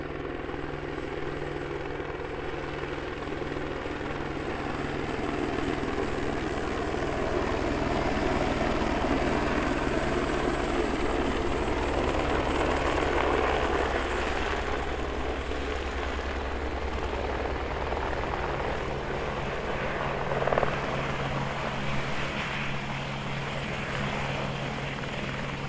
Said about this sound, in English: Gorgeous landing there from the helicopter, eh?